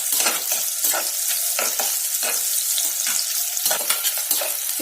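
Onions sautéing in a pan for tomato rice, a dense steady sizzle broken by repeated scraping stir strokes of a spoon, close and loud with no talking.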